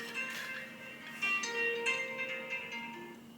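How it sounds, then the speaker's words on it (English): Phone alarm ringtone chiming a quick melodic pattern for a few seconds, fairly quiet and close, with no talking. "And that's my alarm to go to work."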